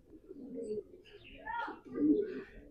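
Racing pigeons coo in a loft, soft low warbling calls rising and falling close by, with brief chirps mixed in over a quiet background.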